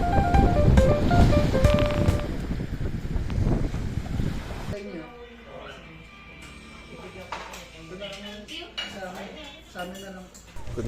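Sea waves wash onto a beach in Ilocos in the late afternoon, a loud rushing surf at first that drops to a softer, distant wash, with people talking over it.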